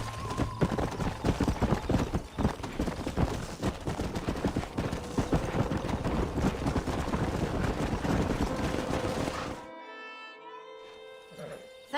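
Horse hooves clip-clopping in the Red Dead Redemption western game, a steady loud rhythmic galloping beat over ambient game sound that cuts out near the end, leaving quieter music-like tones.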